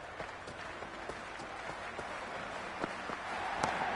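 Cricket match crowd applauding in a steady wash of clapping with scattered sharper claps, moderately distant, swelling slightly toward the end.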